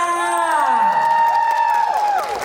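Fans at a Choo Young Woo fan meeting cheering loudly, with high, sustained screams and shouting voices over scattered applause, close and dense across the whole moment.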